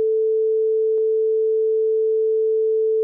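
A steady pure 440 Hz sine tone at concert A holds unbroken for about three seconds, clear and even, with one tiny click partway through.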